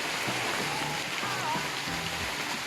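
Heavy rain falls steadily on an overcast day, a dense continuous hiss close by while gear is loaded for a birthday and anniversary event, with faint low voices murmuring underneath.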